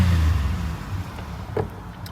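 A 2009 Chevy Impala idling just after starting, a close steady engine hum with a brief rev, no voices.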